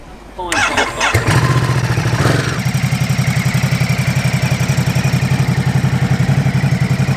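A brand-new 2021 Ducati Supersport 950 S motorcycle is cranked by its starter and fires up, then settles into a loud, close, steady idle with an even throbbing pulse.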